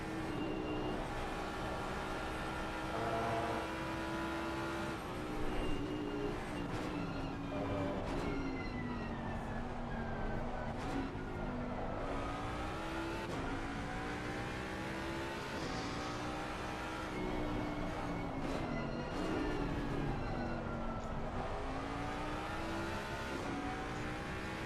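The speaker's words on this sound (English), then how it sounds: "as I know the engine's probably quite loud right now" A GT race car engine at Bathurst heard from the cockpit screams loud and close through a lap, rising in pitch through the gears and dropping on braking, again and again.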